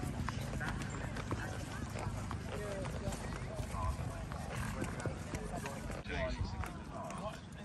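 Horses' hooves clip-clop in a continuous rhythm at a horse show, mixed with crowd noise and people talking nearby.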